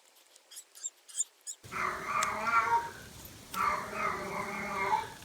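A cat meows in a string of short, rising cries, then lets out longer, drawn-out wailing meows close by, fairly quiet overall with faint room hiss.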